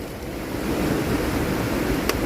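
Floodwater of the Li river in 2024 rushes past in a steady, loud, broadband roar, continuous throughout with a brief sharp knock near the end.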